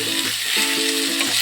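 Prawns and banana flower frying with spices in a pan, a steady close sizzle with faint clinks and tonal scraping from stirring.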